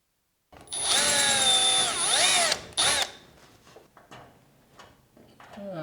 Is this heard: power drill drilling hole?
yes